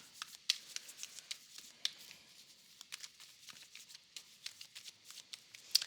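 Soft, close crackles and flicks of tarot cards being shuffled by hand, irregular and faint in a quiet room, with no one speaking.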